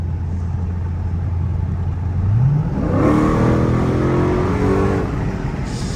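Close and loud, a Dodge Scat Pack's exhaust rumbles at idle, then revs and accelerates hard through climbing gear pulls on a night drive, with no talk.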